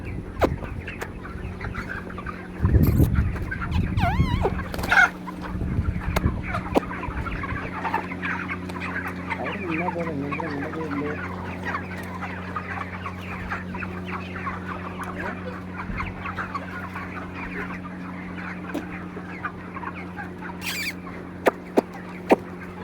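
Chickens on a farm cluck and call in a steady, busy chorus of overlapping voices, with a few louder bursts near the start against a constant low background hum.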